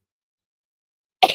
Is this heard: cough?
yes